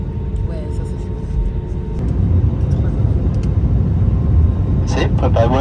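Airplane cabin on a descent into Marrakech, a loud constant low engine rumble fills the space, swelling slightly partway through, with a brief rattle near the end.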